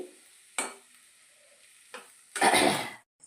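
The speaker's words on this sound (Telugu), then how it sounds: "ఇవి బాగా వేపుకోవాలి బాగా మగ్గిన వరకు వేయించుకోవాలండి" Tomato pieces frying in hot oil in a pan for pickle, heard as a few separate bursts of sizzling and stirring, the last one loudest and longest, with quiet gaps between them.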